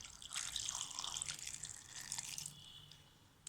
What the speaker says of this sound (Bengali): এখন এটার সাথে অ্যাড করে দিচ্ছি পানি